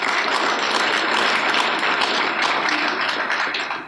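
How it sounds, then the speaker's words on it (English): An audience claps through a lecture hall, a dense, steady burst of many hands that holds for several seconds before easing off slightly at the end. "Thank God you are clapping."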